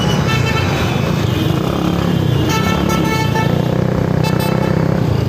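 Busy road traffic at a Korangi crossing in Karachi, a constant loud roar of passing trucks, cars and motorcycles with scattered horn toots throughout.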